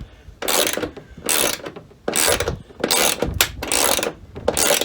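An oversized washer on a roof rail nut of a 2021 Sprinter van clicks as a socket wrench tightens it, six bursts of rapid ratcheting about a second apart, close and loud with no talking.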